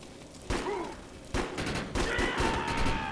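Pistol shots ring out in the Defiance video game, three sharp loud reports spaced about a second apart, each followed by ringing game effects and a faint groan-like tail.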